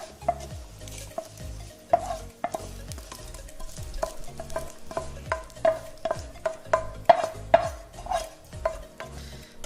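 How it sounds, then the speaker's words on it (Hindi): Whole dried red chillies and lentils dry-roasting in a pan, with a steady rhythm of spoon scrapes and stirring knocks over a faint, dry crackle, close and moderately loud. "2 हमने साबुत खड़ी लाल मिर्च को इस तरीके से तोड़ लिया है, इसको भी हम 10 से 15 सेकंड भून लेंगे"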